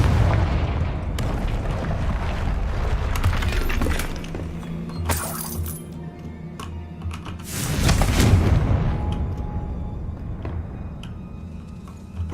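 A Confringo fire spell explodes in Hogwarts Legacy: loud crashing blasts with shattering debris hit around the middle and again near the end, each fading into a low rumble with no talk.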